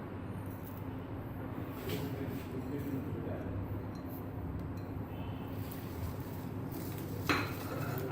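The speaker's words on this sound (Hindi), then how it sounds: "अब इसमें मैं खोपरा और सौंफ मिलाने लगी हूँ" Coconut and fennel are stirred into a sweet wheat-flour batter in a bowl, with a continuous soft scraping and clinking of a utensil against the dish under a low background hum.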